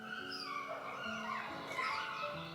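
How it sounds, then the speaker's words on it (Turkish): Dogs barking in the distance in a forest, mixed with high yips and whining cries over a steady background hum. "Bugünkü videomda kuş seslerinin yanında birazcık köpek sesleri de gelecek."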